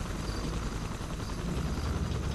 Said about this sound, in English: Chopper's doing a flyby